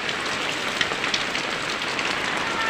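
Heavy monsoon rain pours steadily onto surfaces during a flood at a home, a dense, constant hiss of loud downpour with scattered droplet spatters throughout and no voices.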